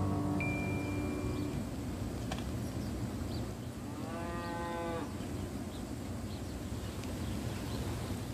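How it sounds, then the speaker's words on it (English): Dairy farm cattle low repeatedly, a couple of drawn-out moos heard at moderate distance over a constant background hiss, with no talking. "I thought we'd just go over there today and see some of the cows"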